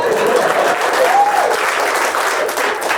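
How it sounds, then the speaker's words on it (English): Steady applause from a comedy club audience at a stand-up show, dense and continuous clapping filling the room at close range with no talk over it. "clap, clap, clap, clap!"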